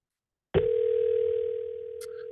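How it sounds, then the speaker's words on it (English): Steady telephone dial tone from a computer-based call dialer, starting abruptly after a click and holding continuously at a moderate level, with a brief faint chirp near the end. "and then hit dial now."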